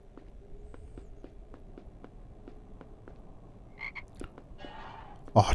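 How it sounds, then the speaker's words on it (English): A chocolate frog in the PS2 Harry Potter and the Sorcerer's Stone game gives a run of soft, regular croaks and hopping taps. A brighter game chime and effects rise near the end, and no one speaks. "Oh, chocolate frog."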